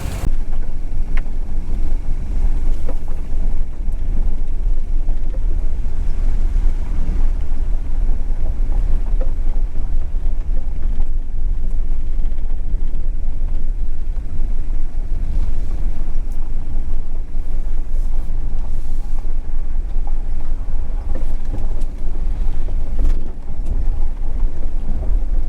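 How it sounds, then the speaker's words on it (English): Strong wind buffeting the microphone outdoors on a homestead, a constant loud low roar and rumble with gusty fluctuations throughout, no talking. "the wind is really picking up"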